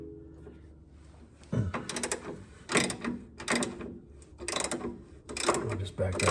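A wrench and socket work a nut and bolt on the front shock of a Chrysler Crossfire, giving several close, loud bursts of metallic ratcheting clicks and clunks separated by short pauses.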